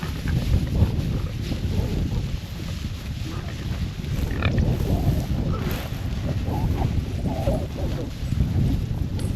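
Fattening male pigs in a farm pen grunt and snuffle close by over steady wind rumble on the microphone, with faint livestock noise scattered throughout.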